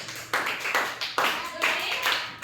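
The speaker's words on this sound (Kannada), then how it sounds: "ಚಪ್ಪಾಳೆ ಹಾಕಿ" Children clapping their hands in a classroom math riddle game, several bursts of loud, close, ragged claps in quick succession, with voices faintly mixed in.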